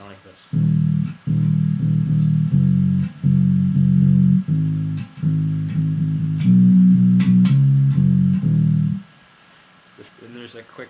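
A bass guitar plays a section of a song, steady plucked low notes in a driving rhythm with a few short pauses, loud and close, then stopping and leaving faint room noise.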